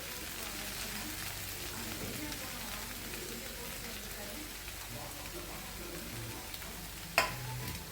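Bitter gourd gojju with freshly grated coconut being stirred in a pan, giving a steady soft scraping and faint sizzle throughout, ending in a single sharp clank of the spoon against the pan.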